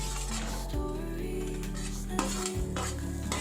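Onion, garlic and sambar spices fry in a pan with a continuous close hiss, broken by scraping stirs and light clinks of a utensil against the pan, over a steady low hum.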